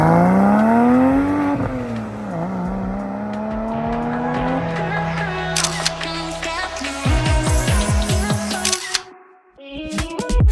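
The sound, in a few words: Porsche 986 Boxster S driving past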